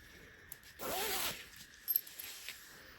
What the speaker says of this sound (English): just open the zip up all the way